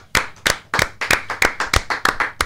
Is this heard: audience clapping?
yes